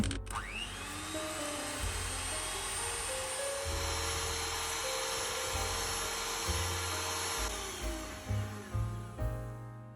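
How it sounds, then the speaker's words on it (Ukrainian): An electric mixer whips a hot syrup and gelatin glaze for Easter bread, a loud continuous whine that climbs in pitch as the speed rises, then ends in a few uneven bumps. "Беремо міксер і починаємо цю суміш збивати. Починаю збивати на низькій швидкості, поступово збільшую до максимальної."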